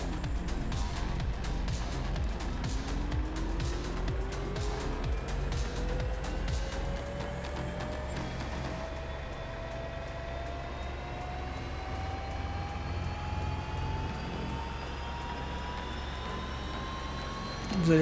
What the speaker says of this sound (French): Et vous voyez que les pales commencent à tourner.